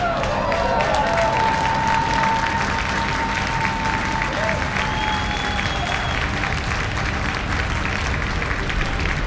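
A SpaceX Falcon rocket carrying OneWeb satellites lifts off, its Merlin engines giving a broad, steady roar with crackle that holds level for over nine seconds, joined by faint tonal whines and no speech.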